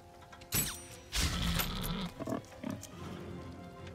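Pig in Baldur's Gate 3 giving grunts and creaky squeals in a few separate bursts, moderately near, with quieter gaps between them.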